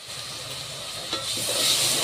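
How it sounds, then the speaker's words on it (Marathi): Tomato paste hits frying vegetables in a pan, giving a steady, close, broad sizzling hiss that swells slightly after a soft knock midway, with no talk. "हा टमाटाचा पेस्ट टाकत आहे"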